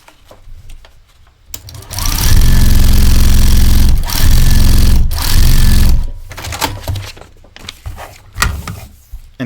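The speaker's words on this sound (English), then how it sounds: "And then I can just go ahead and sew on that line." Sewing machine stitching quilt fabric along a marked line, a loud, close, rapid mechanical whir in two bursts with a brief pause between, then quieter handling clicks and rustles.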